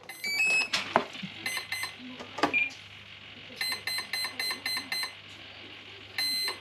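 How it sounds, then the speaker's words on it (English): Series of short, high electronic beeps in quick bursts from an RC Viper Jet's speed controller arming, with clicks and handling noises between groups over a low hum. "as soon as you hear them two beeps, you drop the throttle and then it arms"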